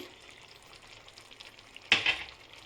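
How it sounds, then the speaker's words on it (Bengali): Bottle gourd greens frying in a pan, cooked with mustard and poppy seed, give off a soft low sizzle, then a brief louder scrape and hiss as they are stirred. "আমি আরেকবার এটাকে নাড়িয়ে দিচ্ছি"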